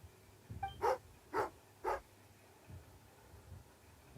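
A dog character growls and barks in Genshin Impact, giving three short, fairly loud bursts close together near the start, then only faint low rumbles over quiet background.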